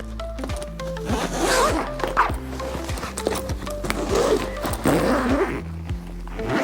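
The zipper of a packed suitcase pulled closed in a long series of short, rasping strokes close by, steady and fairly loud, with a low hum underneath.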